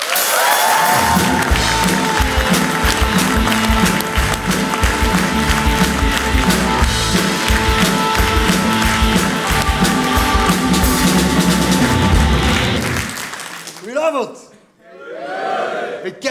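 A live comedy show audience gives a long, loud burst of applause and cheering for comedian Thomas Smet, sustained for about thirteen seconds before cutting off abruptly, followed by a brief voice.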